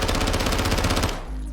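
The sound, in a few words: gunfire from an SMG in the video game Modern Warfare 2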